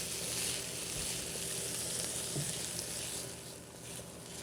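Bacon being stirred in a hot pan, frying with a steady, dense sizzle throughout and no talking over it.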